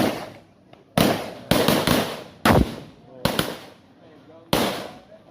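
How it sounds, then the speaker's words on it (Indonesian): Firecrackers go off in a series of loud, sharp bangs, about seven irregular blasts with crackling tails, nearby and outdoors, welcoming a wedding procession in a village. "Ini dengan suara petasan."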